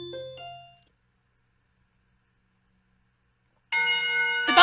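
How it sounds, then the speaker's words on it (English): A school bell in the Katawa Shoujo video game chimes a short descending series of clear, loud tones, falls silent, then rings again in a sustained bright chime at the end. "The bell rings"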